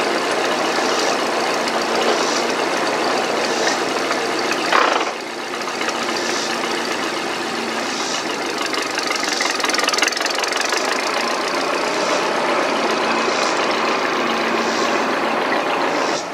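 A Massey Harris 30 tractor engine runs continuously nearby, a loud steady rough idle with a knocking, mechanical chug that stays even throughout, with no voices.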